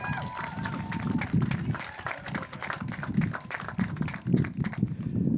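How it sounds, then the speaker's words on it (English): Applause from the audience at a high school graduation ceremony, a steady patter of many hands clapping, moderately loud and diffuse, with some crowd noise mixed in. "give him a round of applause"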